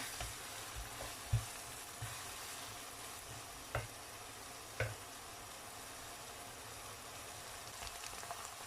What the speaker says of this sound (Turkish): Soğanlarım güzelce kavrulana kadar kavuracağım